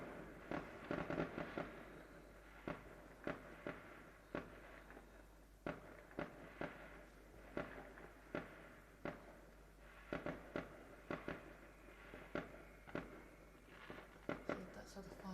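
New Year fireworks bursting at a distance, a steady run of sharp cracks and pops spread across the whole stretch, with people talking over them.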